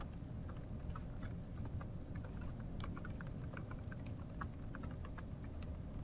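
A question typed on a computer keyboard, rapid light key clicks tapping steadily and faintly over a low hum, with no talk.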